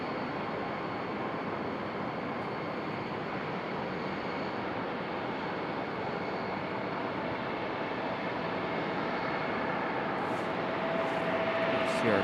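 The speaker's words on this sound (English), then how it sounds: "CRJ making its way around the corner." A CRJ regional jet taxis at Raleigh-Durham International Airport, its steady engine roar and broad whine continuous and fairly distant, rising slightly toward the end with no voices.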